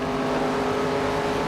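Stock cars roar past on the track at night in NASCAR 25 at Phoenix, a sustained droning engine whine with a steady pitch, loud and close, no voices.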